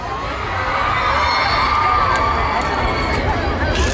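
A large Warped Tour concert crowd cheers and shouts in a steady, loud roar of many voices that stays constant throughout.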